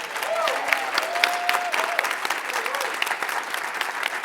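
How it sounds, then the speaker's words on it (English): A crowd applauds at an LGBTQ+ leadership event panel, sustained clapping throughout with some vocal cheering mixed in. "Can we please give her a round of applause?"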